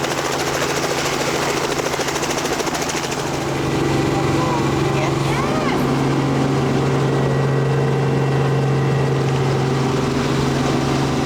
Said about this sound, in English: We've never gone in a helicopter, never flown up in one before